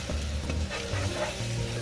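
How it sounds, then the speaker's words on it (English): Onion, garlic and spices for spaghetti fry in a pan with a loud, close, continuous sizzle and crackle, along with light stirring sounds. "good caramel on the onions, the spices are opening up"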